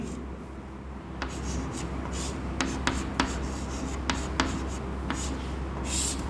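Writing on a classroom board, with a series of short scratchy strokes and taps, some sharper than others, at moderate loudness over a low room hum.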